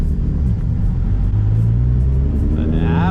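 A car fitted with a prototype Kinetix intake manifold, boosted toward 30 PSI, revs hard under load, a loud steady engine roar with deep rumble that climbs in pitch toward the end.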